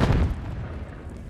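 Grenade explosion in Call of Duty: Modern Warfare 3 on PS5 during a team deathmatch, a loud, close boom whose low rumble decays over about a second.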